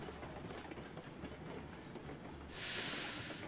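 A locomotive accelerating in a train video game, a steady rolling rail rumble with rhythmic low thumps, then a bright hiss joining near the end, no talk.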